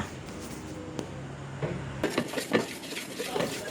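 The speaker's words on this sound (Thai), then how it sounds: "จากนั้นก็ตีผสมแป้งให้เข้ากันค่ะ" Whisking a batter of tapioca flour, rice flour and salt for a layered Thai dessert: quick, irregular clinks and taps of a utensil against a bowl, close and moderately loud, following a quieter stretch with a few light knocks.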